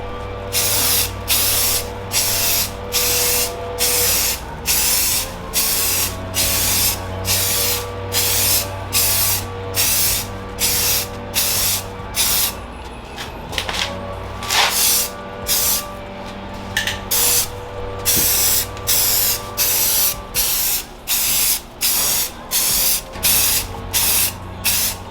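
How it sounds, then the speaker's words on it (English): An aerosol spray can lays clear coat onto plastic car trim parts in repeated short bursts, a steady rhythm of loud, close hissing blasts with brief pauses between them over a long stretch. "then we're gonna put some clear coat on top."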